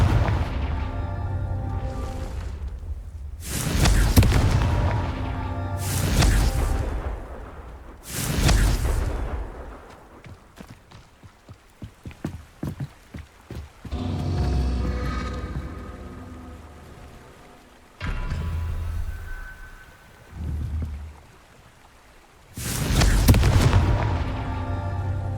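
Fire spell explosions from Confringo in the video game Hogwarts Legacy, with repeated loud booming blasts, each followed by a rumbling tail, separated by quieter stretches with a quick run of small clicking hits.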